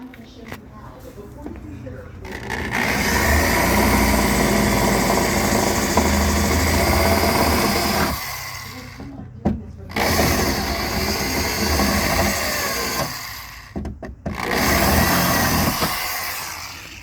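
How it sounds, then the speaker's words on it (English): A power drill whines loudly in several sustained bursts with brief pauses between, drilling the head off a rivet, while a person talks over and between the drilling. "we're just gonna drill the head of the rivet off"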